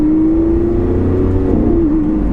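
A loud, steady engine roar from a modified 700-horsepower Lamborghini Aventador V12, holding a sustained tone and rising slightly near the end as it revs hard.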